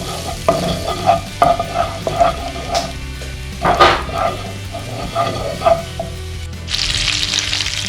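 Chorizo, ginger and butter sautéing in a pan, a close sizzle under repeated rhythmic stirring scrapes and clacks, ending in a louder burst of hissing fry.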